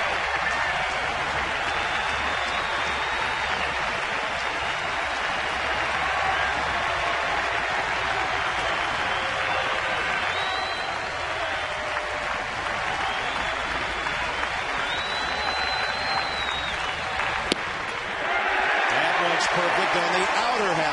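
Baseball stadium crowd roaring and cheering as fans rise to their feet, a loud sustained wash of noise throughout, with a play-by-play announcer talking over it.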